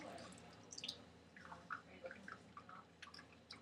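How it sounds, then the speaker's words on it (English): Mountain Dew soda poured from a can along the edges of a Pyrex dish over apples and cinnamon; faint, irregular trickling and dripping with small splashes, quiet and close. "take your can of Mountain Dew and pour it"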